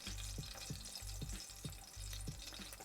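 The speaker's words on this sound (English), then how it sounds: "we can begin frying our onions, guys" Onions begin frying in leftover sausage fat in a pan for a Turkish sucuklu kuru fasulye, giving a steady crackling sizzle with repeated low stirring knocks roughly every half second, close and alone without talk.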